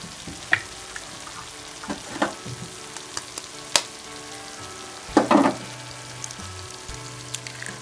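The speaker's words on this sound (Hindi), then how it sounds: "इस तरह से हम इसमें ये अंडे शामिल कर लेंगे।" Eggs go into a spiced onion masala for egg bhurji and fry in the pan, giving a soft, steady sizzle with scattered clicks of utensils and a louder burst of frying about two thirds through.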